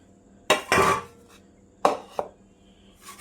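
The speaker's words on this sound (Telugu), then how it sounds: "ఇవన్నీ వేసి మిక్స్ చేసుకొని" A spoon stirs pakoda batter with cornflour, chili powder, masala, ginger-garlic paste, turmeric and salt in a bowl, giving a few sharp clinks and scrapes of metal against the bowl with quiet gaps between.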